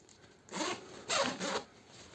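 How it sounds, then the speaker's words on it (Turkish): A zipper on clothing is pulled closed in three quick rasping strokes, close and clear against a quiet background, no talking. "Yine fermuarlı modlarımızda böyle fermuarını çekiyoruz."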